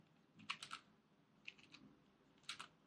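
Faint, close bursts of typing on a computer keyboard as a code comment is written, with three short clusters of key clicks separated by pauses.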